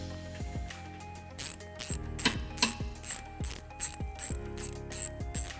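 Small Phillips screwdriver or bit backing out screws inside the wheel well of a 2012 Kia Soul, a series of quick ratcheting clicks in short bursts, fairly quiet and close, with no talking.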